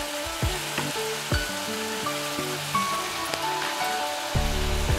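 Spice masala sizzles and spits in a hot pan after a splash of water goes in, for a Bengali katla kalia fish curry; a steady close crackle, broken by sharp clatters of a spoon stirring against the pan.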